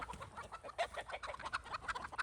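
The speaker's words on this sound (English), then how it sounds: "All right, chickens, you guys got to get out of here." Chickens cluck steadily in a backyard garden, a soft continuous stream of overlapping short clucks heard from close range with little else around.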